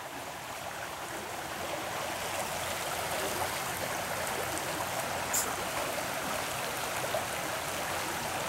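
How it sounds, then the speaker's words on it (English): A creek at Frog Creek runs steadily, a continuous broadband rush of flowing water that stays even and fairly close throughout, with no voices. "The water is flowing pretty well."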